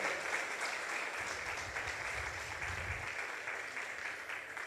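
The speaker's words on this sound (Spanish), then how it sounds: "Dale un aplauso al Señor" A church congregation applauds in a sustained, even wash of clapping that stays faint and distant the whole time, with no talking over it.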